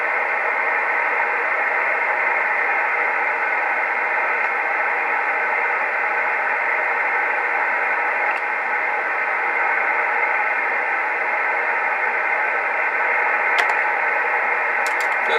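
Steady hiss of 2 meter radio static through an SSB Electronics SP 2000 mast-mount preamp while its gain is adjusted, a continuous even wash of noise with a few faint clicks, close and unchanging.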